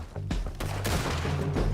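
Automatic pistol gunfire in Red Dead, a rapid barrage of overlapping shots in several bursts, loud and close, continuing through the whole stretch.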